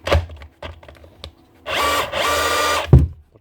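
A Dewalt DCH273 18V SDS drill with a broken internal shaft runs in drill mode, starting with several short blips and then two longer steady whirring runs, loud and close, with a clunk at the end.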